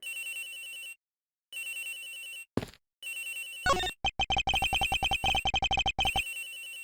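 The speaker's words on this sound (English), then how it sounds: "It sounds like this phone is up in the flight attendant's room." A telephone rings in the Miles Edgeworth video game, sounding as repeated electronic trilling bursts separated by short pauses. The rings are interrupted by a low thud and clicks, then give way to a rapid run of sharp ticking pulses.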